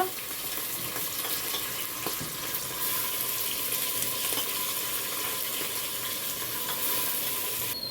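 Rice is added to a pot for khichuri and stirred, giving a continuous wet sizzle and hiss with faint scraping, steady and fairly soft.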